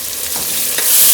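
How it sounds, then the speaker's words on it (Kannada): Chopped tomatoes hit a hot pan for Kannada tomato bath, sizzling steadily with a couple of soft scraping stirs over a brief stretch, close and moderately loud with no voices. "ಟೊಮೆಟೊ ಹಾಕೊಳ್ತಾ ಇದ್ದೀವಿ"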